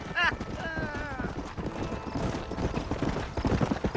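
Galloping horse hooves from the Red Dead Redemption video game (2010) beat in a steady rhythm, close and fairly loud, under a man's spoken dialogue with a brief whinny-like tone near the start.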